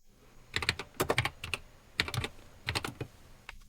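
Keys clatter on a computer keyboard in several quick bursts of typing separated by short pauses, close and clear with no talking.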